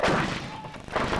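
A 105mm light gun fires once with a heavy, booming report, followed by a rolling echo that swells again near the end, loud and close, with commando gunners' battery fire in the background.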